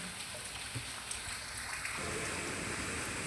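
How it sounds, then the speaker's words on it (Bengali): Rain falls outdoors as a faint, even hiss that grows a little denser partway through, with no voices. "বাইরের অবস্থা, বৃষ্টি আর বৃষ্টি, চারিদিকে শুধুই বৃষ্টি।"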